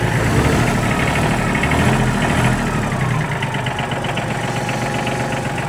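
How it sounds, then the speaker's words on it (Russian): A Mitsubishi MT16 tractor engine idles close by, a loud, steady, even diesel rumble with a faint knocking texture, running alone without talk. "В принципе, двигатель звучит хорошо, никаких посторонних ненужных звуков в нем не наблюдается."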